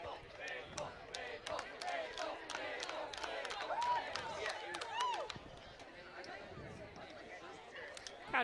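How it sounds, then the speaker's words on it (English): Crowd at a women's American football game between the New York Gridlock and the Austin Torch in Austin, Texas, chanting and shouting in a sustained rhythmic roar, with rising cries and a commentator talking over it. "Crowd chanting for Maple Atkins threat on the sideline"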